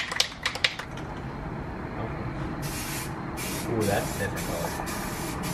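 Close, continuous hiss of a spray can laying thick coats of filler primer, in several bursts with short gaps, while a person speaks briefly over it.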